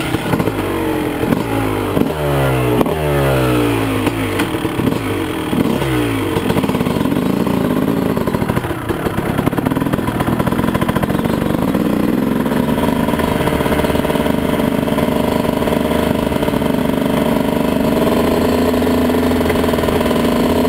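A 2001 Honda CR250 two-stroke dirt bike revs hard in several rising and falling bursts, then settles into a loud, steady, raspy idle and drone that runs on for the rest of the stretch, close by.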